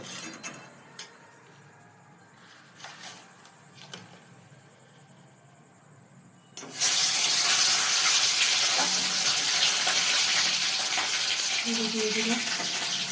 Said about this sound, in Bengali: দিয়ে দিলাম মাছের ডিম ফুটছে